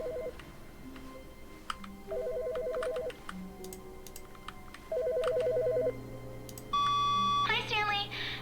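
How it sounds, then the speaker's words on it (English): Telephone in the video game The Stanley Parable ringing in three clear electronic bursts about a second long each, evenly spaced, followed by a brighter chime, over a low hum and faint talk. "Wait, there's a phone ringing."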